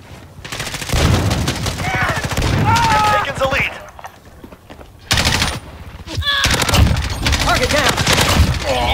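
Loud bursts of automatic gunfire in Call of Duty Modern Warfare, heavy sustained volleys broken by a short lull, with radio-style voices and game chatter mixed over the shooting.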